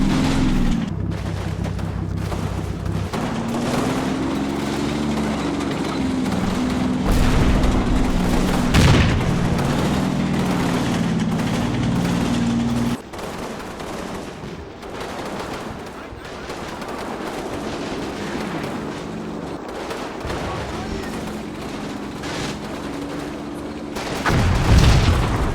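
Tanks fire cannon shots while reversing in the WWII strategy game Combat Mission Battle for Normandy. A couple of sharp, loud booms break through a continuous low engine rumble, spaced well apart.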